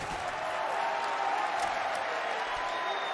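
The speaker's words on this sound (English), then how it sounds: "Yeah, now they're clapping." An esports match crowd claps steadily, a dense patter of applause filling the space at moderate volume for the whole stretch.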